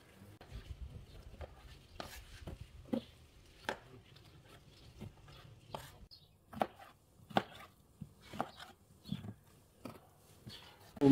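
Tomatoes being chopped with a knife on a board, a run of sharp, close, irregular thuds and clicks spread across the stretch with quiet gaps between strokes, no talking.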